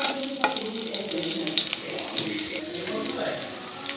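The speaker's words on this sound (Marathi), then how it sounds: "मिरची चांगली भाजून घ्यायची। मिरची चांगली भाजत आलेली आहे।" Green chilies roast in a hot pan with a bright, crackling sizzle and occasional stirring scrapes, steady and close throughout.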